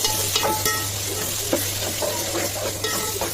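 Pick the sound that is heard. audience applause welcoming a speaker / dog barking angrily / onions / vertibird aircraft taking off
onions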